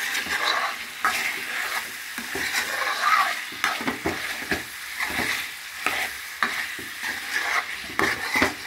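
Radish chicken curry frying in oil in a pan, soft sizzling under repeated scraping strokes of a spoon stirring the pieces at an irregular rhythm, close and moderately quiet.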